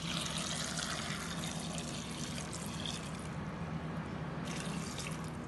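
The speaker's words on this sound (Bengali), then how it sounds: "জল দিয়ে দিলাম।" Water pours steadily into a cooking pot holding chickpeas, small potatoes, turmeric and salt, a continuous close trickling and splashing that runs evenly without pause.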